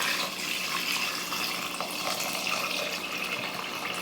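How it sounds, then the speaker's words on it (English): Plain water runs steadily into a pressure cooker pot with ham hocks for a stock, a close, continuous splashing gush with no talking. "We're going in with just H2O because we are making a stock."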